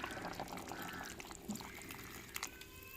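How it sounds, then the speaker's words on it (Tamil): Water being poured into a pot of mutton curry with ground coconut, a faint, soft trickling pour close by under low background noise. "தேவையான தண்ணி சேர்த்துக்கிறோங்க."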